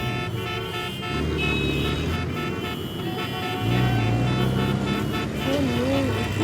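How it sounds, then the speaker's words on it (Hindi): Busy street traffic with car horns honking around a city road, a continuous engine rumble with several horn toots, one a wavering tone near the end, fairly close and loud. "ट्रैफिक।"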